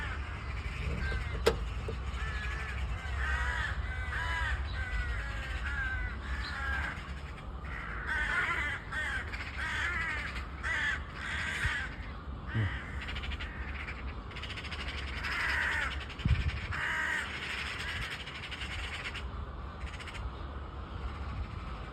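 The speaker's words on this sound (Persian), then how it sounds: "کلاغ و زاغ هم شده اینجا." Crows caw again and again from a short distance outdoors, the harsh calls coming in irregular bursts over a steady low background hum, with no talking.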